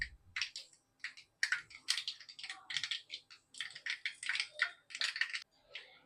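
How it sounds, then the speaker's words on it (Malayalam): Dense, irregular crackling and popping of mustard seeds spitting in hot oil, close by and fairly loud, with no voices. "ഈ ചൂടായ എണ്ണയിലേക്ക് നമുക്ക് കുറച്ച് കടുക് ഇട്ട് കൊടുക്കാം കടുക് പൊട്ടി തുടങ്ങി"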